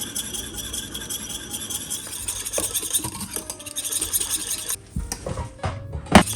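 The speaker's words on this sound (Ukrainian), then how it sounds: "Постійно помішуючи в одну вінчиком, щоб нічого не підгоріло." A whisk stirs a honey cake cheesecake mixture with starch and sugar in a pot over medium heat, giving a steady scraping, swishing stir close by, with a few clinks against the pot near the end.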